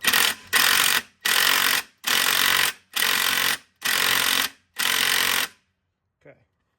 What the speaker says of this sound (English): we're gonna go nice and slow and make sure the crank's moving as we tighten the bolt